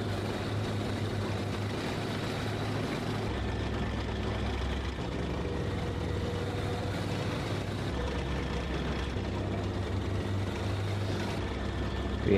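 Panther main battle tank in a video game, its engine rumbling steadily with low, continuous drone and track noise, close and unbroken throughout.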